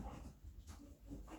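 A dog whimpers in soft, repeated whines through a short stretch, faint and somewhat muffled in an indoor room.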